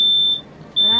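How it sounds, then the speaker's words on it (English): A hallway smoke detector alarm going off indoors, loud piercing high-pitched beeps, one long tone that breaks off and then starts again, close by, with a voice faintly beneath. "my hallway smoke detector went off"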